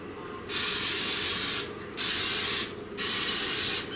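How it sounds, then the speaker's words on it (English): Non-stick cooking spray hisses into the cavities of a Piggy Pop silicone baking pan in three sustained bursts, each about a second long, loud and close with short pauses between them. "spray the cavities in this mold with non-stick stick spread"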